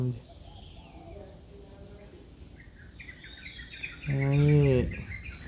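A bird chirps in short, bright calls, with a louder cooing burst near the end, while people talk softly nearby.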